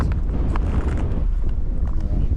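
Strong wind roars and buffets the microphone continuously at an ice fishing tournament in Southern Utah, a loud low rumble with a voice partly buried beneath it.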